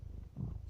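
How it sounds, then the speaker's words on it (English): A cat purrs close by in a soft, steady rhythmic rumble, brief and quiet, ending with a faint higher sound. "My cat is sitting on the keyboard"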